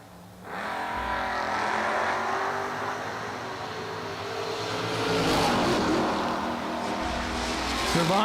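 Drag race cars launching side by side down a drag strip at a Six Shooter Showdown event, a loud sustained engine roar rising with acceleration and swelling again midway, close and continuous.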